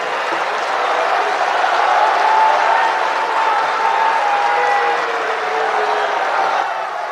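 Audience applause welcoming Dr Zakir Naik to the stage at a speech event, a broad, steady wash of clapping that holds at an even level for several seconds with crowd noise mixed in.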